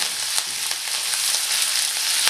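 Chilies and curry leaves sizzle loudly in hot oil for tempering, after black mustard seeds and cumin, making a steady close hiss with faint crackles and no talk.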